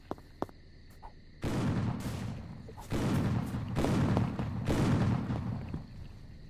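Sniper gunfire in a Roblox police game set in Hamburg: a few sharp cracks open, then several heavy, booming shot bursts follow in an irregular sequence at moderate distance.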